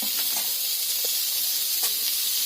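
Potato pieces frying in hot oil in a kadai give a steady, close hiss and sizzle from start to finish, with a few brief crackles and pops breaking through.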